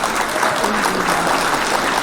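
Steady applause from a small crowd fills the whole moment, a dense, even patter of clapping hands at moderate volume with no pauses or voices standing out.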